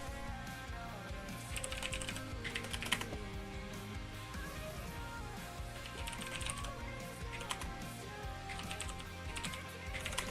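Rapid, steady clatter of keys on a computer keyboard, close and continuous for several seconds with small irregular bursts of faster typing.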